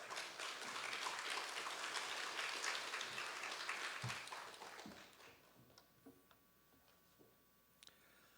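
Dense church congregation applause welcoming a speaker fills the first five seconds, then tapers off into scattered claps and quiet room noise.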